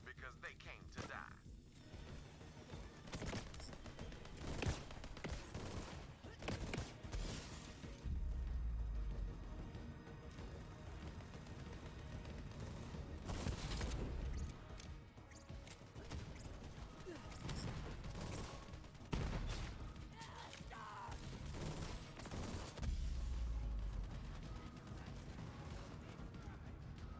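Rapid gunfire and mechanical weapon clatter from the Borderlands 3 co-op shooter, sustained and dense with repeated bursts, mixed under ongoing talk from players.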